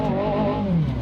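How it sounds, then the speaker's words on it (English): A Peugeot 406 V6 engine in the Assetto Corsa racing game, a smooth, continuous revving tone with rising and falling pitch, loud and close with no talk over it. "That's a really good sounding engine."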